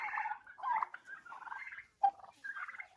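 Young turkey poults let out onto grass outdoors peep and chirp in a steady, overlapping chatter of high calls, fairly close, with a short pause midway.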